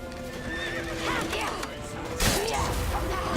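A horse whinnies over clattering hooves and busy action sounds in the video game The Witcher 3, with a sharp crash partway through.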